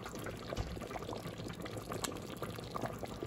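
Hot water is poured into a pot of frik soup with bird's-tongue pasta, a faint, steady splashing and trickling that lasts a few seconds without talking.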